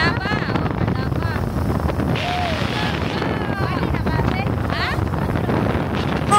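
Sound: strong wind blowing

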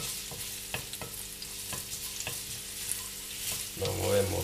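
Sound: garlic frying and being stirred in hot oil

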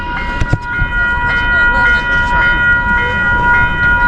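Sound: electric train (skytrain) arriving

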